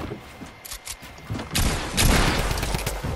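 Rapid bursts of gunfire in a shooter video game, sporadic shots at first, then a dense, loud fusillade, with players talking over it.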